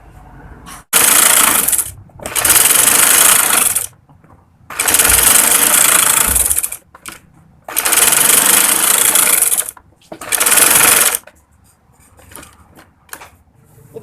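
A domestic sewing machine runs embroidery stitches on a kurti neckline in loud, fast whirring bursts of a few seconds each, broken by short pauses and faint handling noise between runs.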